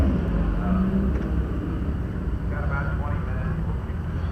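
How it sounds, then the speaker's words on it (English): Car engines revving at an outdoor spring car show and swap meet at the Lancaster, Ohio fairgrounds, a steady loud rumble that swells and drops while people talk close by. "If everybody stopped revving their cars"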